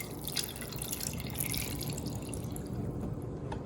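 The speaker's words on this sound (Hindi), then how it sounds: "इतना पानी मैंने डाला है कि चिकन सोक हो जाए।" Water runs and splashes over chicken drumsticks in a bowl to soak them, a close, continuous trickling with small drips and splashes and no talk.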